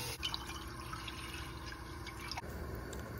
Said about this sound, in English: get 4 cups of water and place it in a stock pot